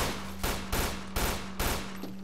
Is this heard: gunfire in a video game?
yes